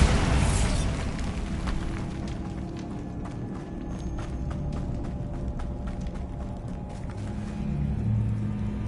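A Bombarda explosion spell cast in Hogwarts Legacy: a loud opening blast followed by a long rumbling roar with scattered debris cracks, swelling again near the end.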